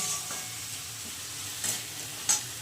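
Onions and green chillies fry in a pan with a steady soft sizzle, broken by a couple of brief stirring scrapes.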